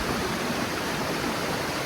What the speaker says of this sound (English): You can sit here and just watch the waterfall, and just enjoy the sounds of water flowing in nature.